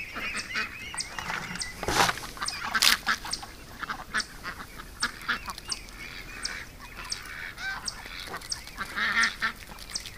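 Flock of ducks quacking and honking in a lively, irregular series of calls, close and moderately loud, with occasional sharper bursts and no voices.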